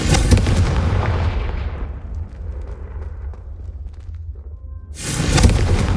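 A Confringo spell blasts candelabras in Hogwarts Legacy: a loud booming explosion rumbles and fades over a few seconds, then a second heavy blast erupts at the end.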